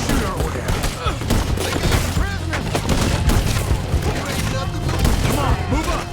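Rapid gunfire in a Red Dead Redemption 2 shootout at Beaver Hollow, dense overlapping shots and bursts cracking close and loud without pause, with shouted voices now and then.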